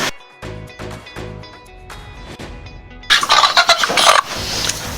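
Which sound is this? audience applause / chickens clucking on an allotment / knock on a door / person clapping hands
chickens clucking on an allotment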